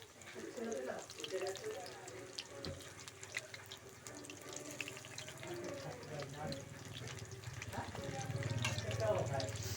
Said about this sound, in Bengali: এভাবে উল্টে পাল্টে কিন্তু একটু লাল করে ভেজে নিতে হবে।